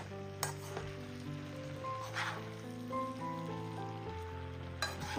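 Egg and drumstick curry simmers quietly in a pan after curd is added. A few soft stirring knocks and clinks sound over a low bubbling sizzle.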